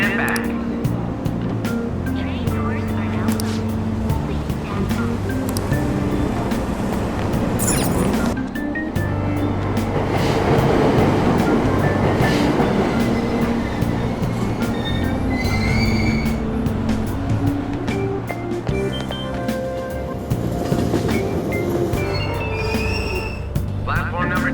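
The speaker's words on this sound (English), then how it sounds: "Train doors are now closing." A subway train stands at a station platform in the video game Persona 5 Royal, with rumbling, squealing wheels and station chimes, and announcements play over the train noise throughout.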